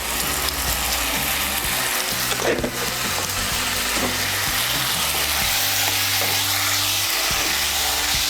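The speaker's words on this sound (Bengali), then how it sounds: "আলুগুলোকে মশলার সঙ্গে ভালো করে মিশিয়ে নেব।" Potatoes mixed with spices are stirred in a hot pan, giving steady loud sizzling with repeated scraping and clattering strokes of the spatula throughout, no voices.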